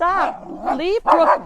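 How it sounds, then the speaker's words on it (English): A dog barks and yips on a farm near the horse pens, with a few short barks close by over people talking. "That's a dog."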